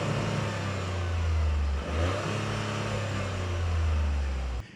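A Toyota GR Yaris engine runs through its dual exhaust pipes with a steady, low droning rumble that swells slightly and dips briefly midway before cutting off near the end.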